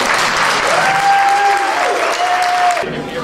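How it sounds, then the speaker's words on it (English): Loud, steady audience applause for graduates at a youth services celebration, continuous for about three seconds, with a sustained whistle-like tone running through it before the clapping cuts off. "Can we do one more round of applause for our 9"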